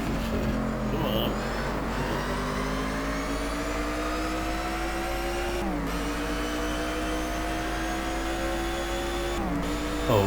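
Race car engine in the GT Legends racing game, revving hard and climbing through the gears with repeated upshifts and brief drops in pitch, loud and continuous, with faint talk underneath.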